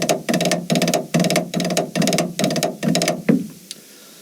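A fast five-stroke drum roll played repeatedly, with tight bursts of rapid bounced strokes and accents running together in a quick, steady pattern before stopping with a final hit, close and loud.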